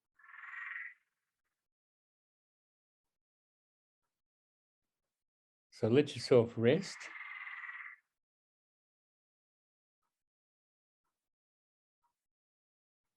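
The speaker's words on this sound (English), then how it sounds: "you can probably hear that frog screaming outside" An outdoor frog croaks in two short bursts, faint and distant, with a calm voice speaking softly between them in an otherwise quiet room.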